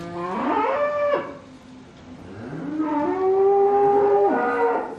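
Dairy cows low in long, loud moos close by, one call followed by a pause and then two more drawn-out moos, with no talk over them.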